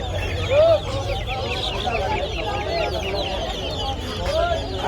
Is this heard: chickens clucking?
yes